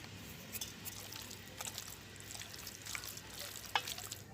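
Raw meat being mixed by hand with salt and turmeric, soft wet squishing and slapping at close range with occasional sharper squelches over a quiet background.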